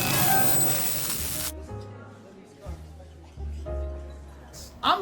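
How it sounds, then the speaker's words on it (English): Hair spray hisses onto hair in a steady, close burst lasting over a second, then stops as a person talks over the rest. "How's the hair? Is it staying? Yeah, I'm spraying it."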